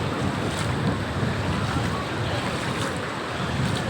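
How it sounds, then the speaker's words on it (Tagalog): Big ocean waves break and roll continuously at a surf spot in the late afternoon, a loud, steady broadband wash with wind buffeting the microphone throughout. "Ang lalaki ng alon"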